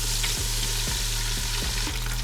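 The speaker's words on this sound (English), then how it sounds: "Now it's frying time." Fried chicken for a sandwich bubbles and crackles in hot oil around 375 degrees, a steady close sizzle with regular soft popping and no talking.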